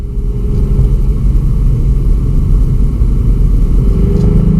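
A VW Up GTI climbing toward mountain roads, its engine a steady, loud low rumble under continuous road and cabin noise, with no clear revving peaks.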